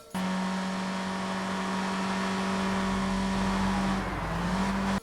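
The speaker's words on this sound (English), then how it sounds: "Now we gotta escape the police in an old van" An old van drives fast to escape police in the video game Sleeping Dogs, its engine holding a steady loud drone that dips and shifts near the end, with no talk.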